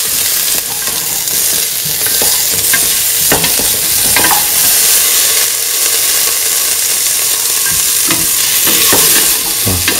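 Carrot pieces tossed and stirred in a hot pan for a vegetable rice dish, loud sizzling frying with repeated scraping strokes of a spoon, close up and without talk.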